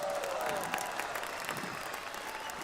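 Sustained applause from a crowd, steady clapping throughout with a faint tone drifting across the start.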